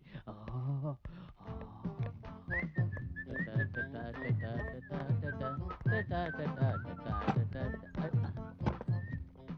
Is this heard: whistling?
yes